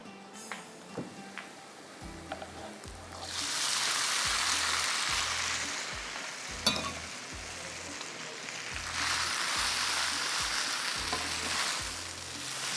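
Boiled noodles are stir-fried in a pan with fried garlic and chilies. A loud, close sizzle rises in two long bursts, and rhythmic scraping and tossing strokes of a spatula run beneath it.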